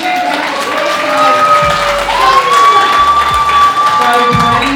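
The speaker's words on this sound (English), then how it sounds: "Please give a big round of applause for our" Wedding guests at a Melbourne reception clap and cheer loudly for the bridal party, a close wash of applause under whoops and high shouted cheers that rise and fall.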